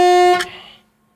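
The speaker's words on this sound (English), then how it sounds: "Well, it does have a good horn." A Chevrolet C10 squarebody truck's horn gives one loud, steady blast lasting under half a second, then cuts off and trails into quiet.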